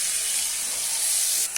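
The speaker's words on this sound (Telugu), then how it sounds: "ఇప్పుడు మనం కలుపుకున్న చికెన్ ఇందులో వేసుకోవాలి." Marinated chicken drops into a pan of hot oil with onion, turmeric and ginger-garlic paste for a chicken curry, producing a loud, steady, hissing sizzle up close that lasts throughout.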